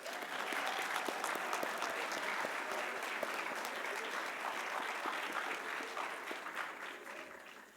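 An audience applauds graduates at a fall commencement ceremony, a sustained, dense clapping that holds steady for several seconds before easing off.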